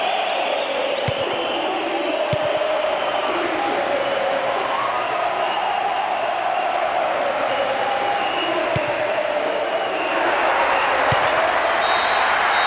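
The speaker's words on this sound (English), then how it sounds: "A huge roar from the crowd as the referee blows the final whistle." A video-game stadium crowd in PES 2006 roars and applauds at the final whistle, a dense sustained wash of cheering noise that swells toward the end, with faint commentary underneath.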